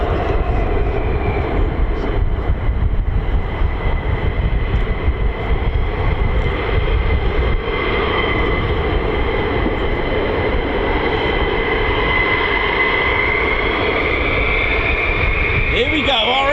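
F-15 and F-35 fighter jets roll out at RAF Lakenheath with a loud, steady, close engine roar and whine that holds throughout, along with some wind buffeting.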